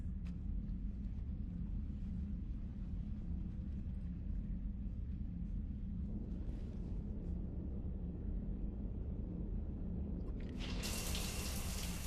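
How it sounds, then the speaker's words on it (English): Water runs in a shower aboard a ship in the game Mass Effect 3, a steady low rush that holds throughout, with a brighter hiss swelling near the end and no talk. "I figured you'd be more interested in a shower."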